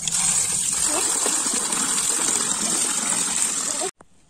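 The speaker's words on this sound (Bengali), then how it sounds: "এবার আমগুলো ধুয়ে নেবো আমরা।" Raw green mangoes are washed under a steady gush of running water, splashing and sloshing close by before the flow stops abruptly near the end.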